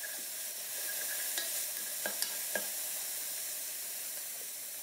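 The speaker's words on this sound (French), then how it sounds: "je mets la cocotte minute sur le feu, sur un feu doux, et je fais revenir les oignons." Onions frying gently in a spoonful of oil inside a pressure cooker over low heat, a soft continuous sizzle and hiss with a few faint clicks of stirring, steady and fairly quiet, no voices.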